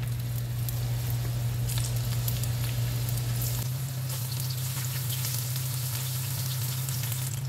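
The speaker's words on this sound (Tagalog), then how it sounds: "Mix yung ating talong." Eggplant sizzles in a frying pan as it is mixed, a continuous close crackle with soft squishy stirring over a low steady hum.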